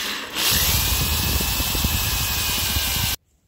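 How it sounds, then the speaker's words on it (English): A power drill whirs loudly and steadily for about three seconds, grinding into a hard carbon rod, then cuts off abruptly. "if you want to screw in there for a terminal, you gotta drill off to the side"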